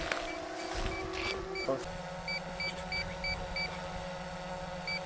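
A series of short electronic beeps from a water rocket's flight data recorder sounds in spaced pairs and singles at a moderate level, following a brief mechanical whir.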